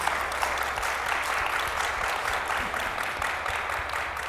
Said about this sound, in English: Can we get a round of applause for our amazing panelists?